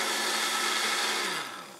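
A blender whirring at high speed with a steady, loud, noisy drone that starts to wind down at the end.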